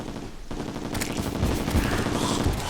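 Train weapon firing in Terraria with tModLoader, a dense, rapid burst of gunfire-like shots running continuously and loud, with no talking.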